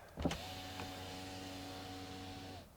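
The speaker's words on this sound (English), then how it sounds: "Do the rear windows go all the way down?" The rear power window of a Mercedes E-Class motors down with a steady electric whine after a brief click, running smoothly for about two seconds before stopping, heard close inside the cabin with no talking.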